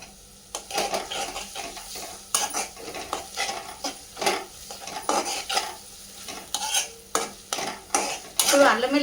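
Ginger-garlic paste and turmeric fry in a pan, stirred with a metal spoon that scrapes and clinks against the pot in a steady, repeated rhythm over a soft sizzle, close and clear with no talking.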